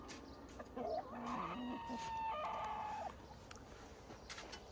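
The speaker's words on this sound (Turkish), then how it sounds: "Burada da tavuklarımız var." Hens cluck softly in a backyard garden while a rooster crows once in the middle, fairly faint against a quiet farmyard background.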